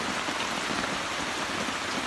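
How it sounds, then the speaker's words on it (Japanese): Heavy downpour drums on a car during a camping trip in the early hours, a dense, constant roar of rain with no voices and no break. "雨がやばいです。"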